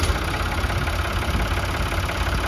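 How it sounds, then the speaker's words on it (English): A Ford 3610 Fordson tractor engine idles close by, a steady, rough, low diesel chug with even rhythmic pulsing and no speech. "nice, clean little Fordson tractor, ready to go"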